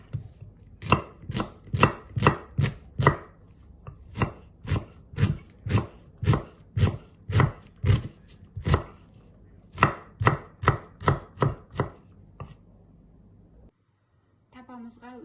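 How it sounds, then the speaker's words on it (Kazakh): Onions are chopped with a knife on a cutting board in quick, evenly spaced, close thuds. Two short pauses break the run before the chopping stops into near silence and a final light clatter. "Пиязды да сақтап турап аламыз."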